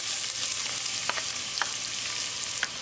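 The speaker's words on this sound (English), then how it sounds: "We're going to cook garlic, ginger for 20 seconds" Garlic and cumin seeds fry in olive oil for a ground bison keema, giving a steady, close sizzle broken by a few sharp stirring clicks.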